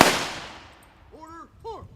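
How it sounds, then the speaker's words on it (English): A rifle volley fired at a highway patrol memorial monument dedication cracks once at the start and rolls away in a long fading echo outdoors, followed by faint bird chirps. "Ready, aim, fire. Ready, fire. Ready, fire."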